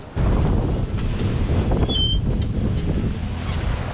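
Steady ocean wind roars over a solo sailboat under genoa on open sea between the Canaries and Cape Verde, with waves washing against the hull in a loud, continuous, close rush.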